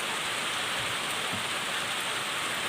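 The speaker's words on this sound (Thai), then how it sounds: "ฝนคงไม่หยุดตกแน่" Heavy rain pours steadily in the countryside, a dense, even hiss of drops on surfaces with no break and no voices.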